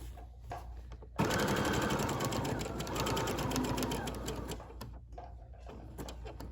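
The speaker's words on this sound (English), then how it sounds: "I'm going to use that zigzag stitch again to sew right over that ribbon." A sewing machine runs a steady zigzag stitch over ribbon on a child's apron, starting abruptly and whirring loud and close for about four seconds before easing back to quiet.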